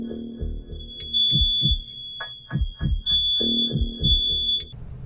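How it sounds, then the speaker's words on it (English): A sensitive household smoke alarm sounds a steady high-pitched electronic tone, close and clear, with irregular thumping and rustling noises underneath. "Just a sensitive smoke alarm."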